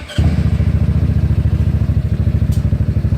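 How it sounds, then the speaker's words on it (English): A GY6 scooter engine is started with the button and catches almost at once, settling into a loud, close, steady chugging idle with a fast regular pulse and light mechanical clatter. "we're going to hit the start button"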